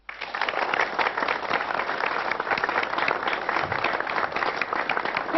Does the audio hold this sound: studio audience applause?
yes